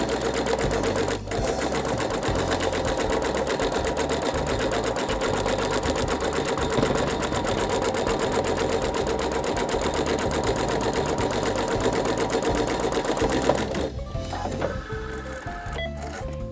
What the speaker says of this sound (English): Next, I'm going to go ahead and I am going to stitch out the seam